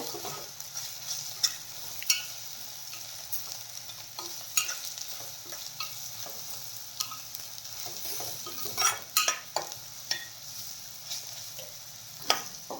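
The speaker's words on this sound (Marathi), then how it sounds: "आणि मसाले यामध्ये छान असे परतून घेऊया" Onion and garlic masala with turmeric sizzles steadily in a pan while a spoon scrapes and stirs it, sharp clinks and scrapes popping up every second or so over the continuous close frying hiss, with no voices.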